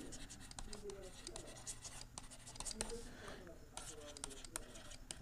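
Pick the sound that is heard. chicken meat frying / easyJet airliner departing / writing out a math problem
writing out a math problem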